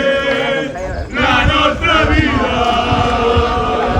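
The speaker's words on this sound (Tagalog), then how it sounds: "Di rin may iwasan na marinig ang huni ng mga lasing." A group of drunk people shouts and cheers in a loud, continuous crowd din, with overlapping rowdy voices swelling after a brief dip near the start.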